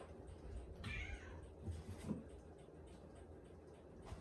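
A cat meows several times indoors, fairly close, with brief rising and falling cries standing out over a quiet room background.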